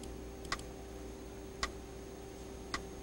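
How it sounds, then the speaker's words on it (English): A metronome on a MIDI music-editing computer setup clicks three times at an even pace, about once a second; each click is crisp and faint over a steady low hum. "That little clicking is a metronome."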